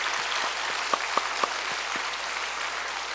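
Church congregation applauding at a New Year worship service, a steady dense wash of clapping filling the room with a few sharper individual claps standing out near the front, continuous and without talk.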